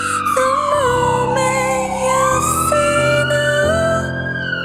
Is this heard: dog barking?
no